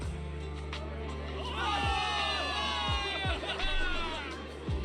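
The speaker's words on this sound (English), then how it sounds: "Give it up for yourselves, soldiers! Cheer for victory!" A crowd cheers and shouts in celebration of victory in the video game Zenless Zone Zero, a swelling wash of voices with rising whoops, steady under a low background hum.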